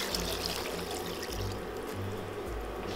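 Water poured into a pot for cooking chicken and yellow rice, a steady close splashing trickle lasting a few seconds with a low hum underneath.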